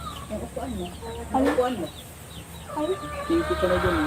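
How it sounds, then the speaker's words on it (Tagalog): Chickens cluck and squawk nearby while a person talks over them. "Ang ingay nung mga manok."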